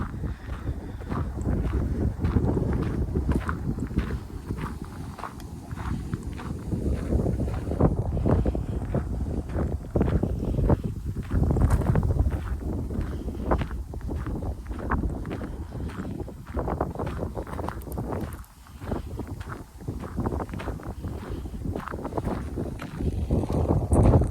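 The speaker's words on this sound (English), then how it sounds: "really windy out here today." Strong wind on an outdoor hiking trail beside power lines buffets the microphone in a constant, loud, low rumble that gusts and roars without a break for over twenty seconds.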